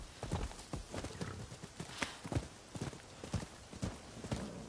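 Horse hooves clip-clop at a steady walking rhythm in the video game Rise of the Ronin, each hoof strike sharp and close, with no talk over them.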